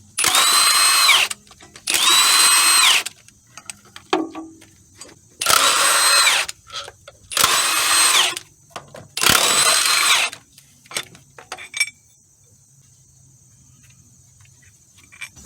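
A power tool spins off 14mm bolts from a bracket on a Toyota Camry Solara during a power steering pump replacement, with four or five loud, close, whirring bursts of about a second each, separated by short pauses and faint clinks.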